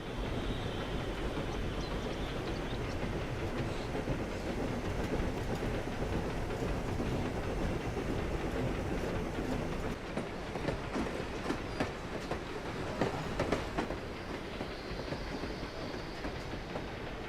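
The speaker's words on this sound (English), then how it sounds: "The 1924 locomotive weaves through the bush, transporting its passengers back to the age of steam." A 1924 steam locomotive rumbles continuously along the rails through the bush in Zambia, with rhythmic clacking of wheels and brief metallic squeals, heavy and close throughout.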